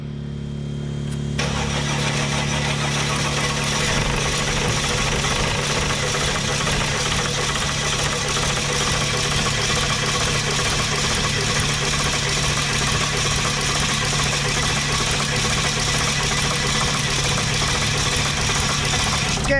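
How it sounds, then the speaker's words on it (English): A 2007 Sprinter van with bad piston rings starts and settles into a loud, rough, uneven idle that keeps running without a break, close to the listener, with no talk over it. "I wanna observe the engine now with this unit"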